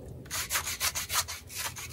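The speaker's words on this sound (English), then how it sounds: "So I'm gonna scrape it right there." A knife scrapes across the hide of a wild hog in a series of rough strokes, about six or seven close, rhythmic rasps with short pauses between them.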